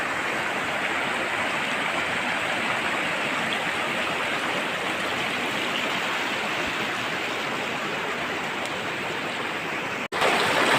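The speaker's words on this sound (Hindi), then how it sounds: "नदी का बहाव बहुत ही तेज है" Fast, dangerous jungle river rushing steadily in a loud, dense broadband roar that stays constant throughout, with a brief dropout near the end.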